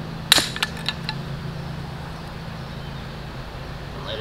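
A Barnett crossbow trigger is pulled to de-cock it, giving one sharp, close snap followed by a few fainter clicks that trail off into a steady background hum.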